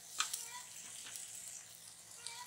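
Okonomiyaki batter with shrimp and crab hisses softly as it is poured onto a hot griddle, a faint, steady crackle with a few small pops and no talking.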